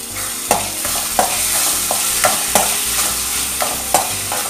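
Tomato, garlic and curry leaves frying in a pan for a stuffed masala idli, with a steady sizzle broken by sharp scrapes and clacks of stirring every second or so, close and with no talk.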